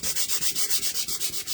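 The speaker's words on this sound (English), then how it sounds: "you're just going to sand it. You can sand it in both directions." Sandpaper rubs back and forth across a chalk-painted wood surface in fast, even strokes, close and loud, about eight passes in under two seconds.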